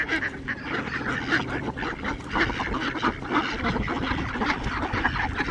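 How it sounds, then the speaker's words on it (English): A large flock of ducks or geese honking and quacking continuously outdoors in rural mountain Japan, a dense overlapping chorus of calls at moderate distance with no talking. "Those are a lot of ducks."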